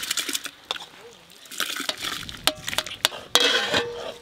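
Dal is tipped into heated water in a pot for khichuri, with soft splashing and stirring broken by several sharp metallic clinks, the loudest coming toward the end.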